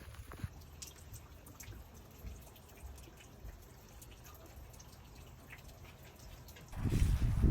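Light rain falling on a wet cattle pen, faint scattered drips and patters over a quiet background, ending in a louder rustling burst.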